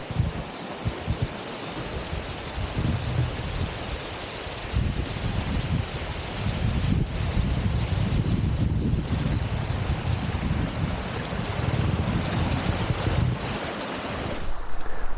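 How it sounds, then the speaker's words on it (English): Steady rushing water from a waterfall on Feldon Burn in a sheltered valley, a dense broadband roar with wind buffeting the microphone, continuous and fairly loud with no voices. "And we've come to the first waterfall."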